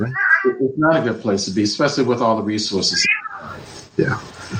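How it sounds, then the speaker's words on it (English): A pet cat meows at home during an interview, its cries mixed with and partly under a man's close, steady talking. "Excuse my cat."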